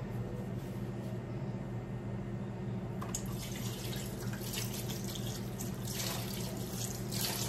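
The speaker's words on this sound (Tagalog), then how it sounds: "hugas muna tayo ng mga ilang paso" A kitchen tap runs steadily while pots are washed beneath it, a continuous close splash of water with a low hum underneath, and brighter rinsing and clatter after a few seconds.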